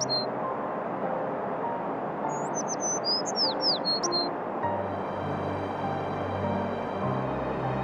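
A sparrow in an animated folk tale gives a brief burst of quick, high chirps over a soft background hum, which shifts to a low rumble afterward.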